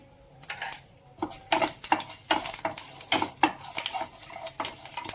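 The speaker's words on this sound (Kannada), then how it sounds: "ಮೆಂತ್ಯ ಒಂದು ಕಾಲು ಟೀ ಅಷ್ಟು ಮೆಂತ್ಯ ಇಟ್ಕೊಂಡಿದ್ದೆ ಮೆಂತ್ಯ ಹುರ್ಕೋತೀನಿ" Fenugreek seeds roasting in a pan with oil for homemade puliyogare powder: repeated sharp scrapes and stirring clinks of a spatula against the metal pan over a faint sizzle, close and fairly loud, with no talking.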